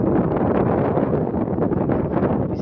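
Wind blowing outdoors in Jeddah, Saudi Arabia, buffeting the microphone as a loud, continuous low rumble with gusty swells.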